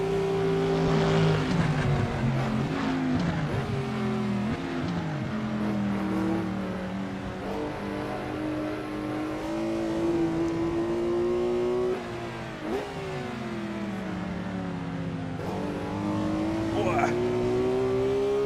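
A historic Corvette race car in Assetto Corsa roars nonstop through a Goodwood lap, its engine pitch rising and falling with shifts and corners, while someone talks over it throughout.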